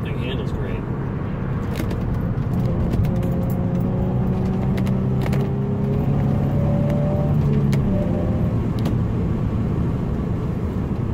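A yellow 2005 Nissan 350Z Grand Touring Roadster convertible drives along with a steady low engine and road rumble, heard from the cabin, while someone talks over it throughout.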